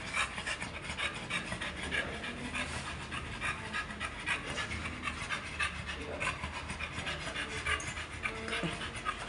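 A dog pants steadily and close at an animal clinic, with quick rhythmic breaths throughout and a faint rubbing noise underneath.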